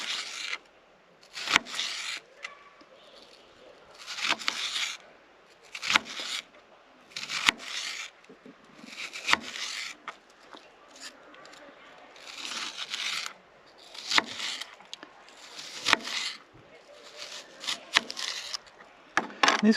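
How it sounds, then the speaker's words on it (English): A kitchen knife cutting an onion into thin strips on a cutting board, giving repeated crisp slicing and scraping strokes in an uneven rhythm, close and fairly loud with no talk. "then we're just going to cut it into these little strips"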